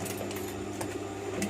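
A sewing machine stitches a shirt combining batik fabric, running as a steady, even mechanical whir for its whole length with no pauses.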